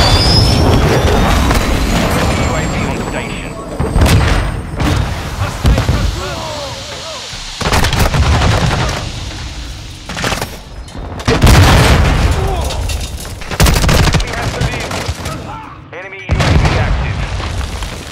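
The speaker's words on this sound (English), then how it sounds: "Friendly cruise missile deployed" Heavy, booming cruise missile explosions in Call of Duty Modern Warfare 2, a string of loud, repeated blasts with rumbling low ends over game noise, while voices talk over the din.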